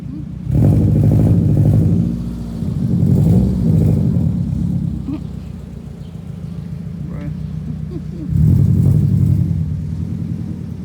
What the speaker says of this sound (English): Of course, it's parking right here.